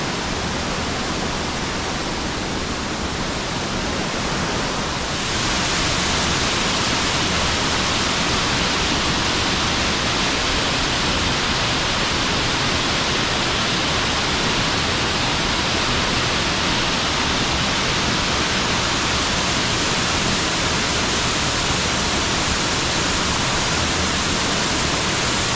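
Fujio waterfall in Shin'ichi pours in a dense, constant roar that fills the whole clip, loud and close, swelling slightly stronger after the first few seconds with no voices.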